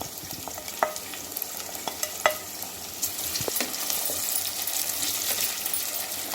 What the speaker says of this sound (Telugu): ఇప్పుడు దీంట్లో మనం ఉల్లిపాయలు, మంచిగా సన్నగా తరిగిన ఉల్లిపాయలు వేసి దూరగా వేయించుకుందాం.